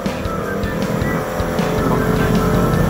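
A 2025 Bristol Fortress 160 motorcycle climbs a steep, slippery hill under light throttle, its engine a loud, close, steady drone with small pulses and no talk.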